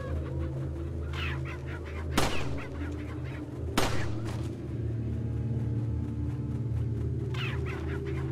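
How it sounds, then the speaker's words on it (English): Chickens in Resident Evil 4 cluck and squawk in a few short bursts over a steady low game background, with two sharp impact hits mid-clip. "First time we kill a chicken."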